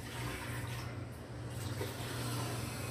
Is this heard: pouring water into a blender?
yes